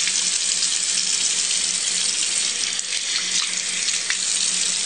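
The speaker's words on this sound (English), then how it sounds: "I use some lukewarm water and I take it in my hand like a cup and I just trickle it over top" Lukewarm water poured from a cupped hand trickles steadily over a freshly unbandaged tattoo, a close, continuous splashing hiss with faint running-tap texture and no talk.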